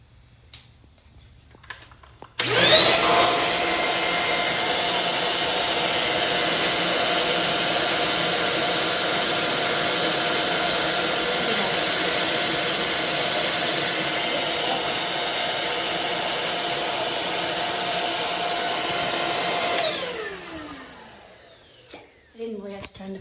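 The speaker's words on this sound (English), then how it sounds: "I didn't really have to turn the vacuum on," A Bahuun cordless vacuum cleaner with a dust illumination light runs at a loud, steady whine for about seventeen seconds, starting abruptly and then winding down.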